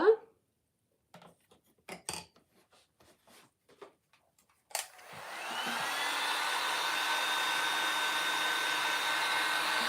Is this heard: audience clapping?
no